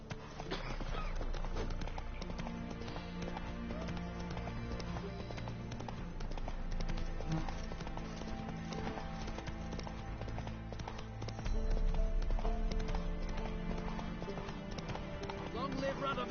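Roach the horse gallops in The Witcher 3, a steady rhythmic clip-clop of hooves under continuous game music and ambience, with a voice speaking over it.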